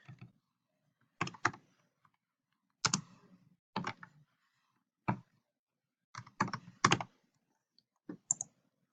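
Typing on a computer keyboard, heard as short bursts of clicky keystrokes in scattered clusters, close and fairly quiet, with pauses between groups and no talking.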